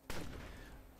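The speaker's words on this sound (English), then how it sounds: "No shooting guns at me." Enemy gunfire in the video game Betrayer erupts as one sharp, loud report followed by a rolling, decaying rumble and scattered noise that trails off within a second.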